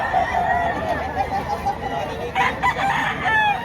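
Roosters crow at a poultry market in Padre Garcia, Batangas, with repeated crowing and clucking standing out over a steady crowd hubbub and distant voices.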